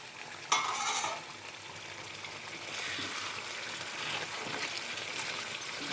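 Chicken curry for gongura chicken bubbles and sizzles steadily in a pot, a continuous soft frying hiss with a faint clink near the start, moderately close and with no talking.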